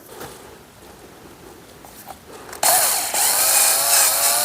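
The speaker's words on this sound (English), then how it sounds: "let me drill these out, get them fitted" A power drill bores holes in file handles after a brief quiet lull, running loud and steady with a high whine close to the microphone.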